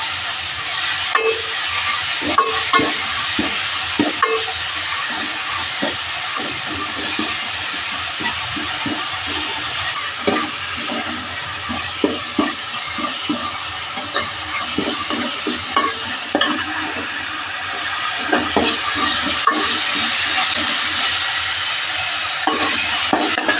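Ground spice paste fries in a pan with mustard seeds for rasam, a close, steady sizzle and hiss overlaid by frequent rhythmic spatula scrapes and stirring taps.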